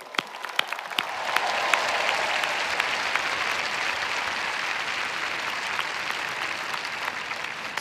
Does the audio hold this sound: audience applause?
yes